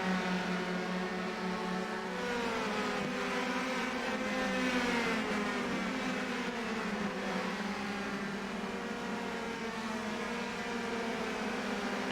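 Race car engines in a Lucas Oil 125 auto race, a continuous high whine with overlapping revving harmonics as cars battle through turns with lap traffic, steady and fairly loud without a break.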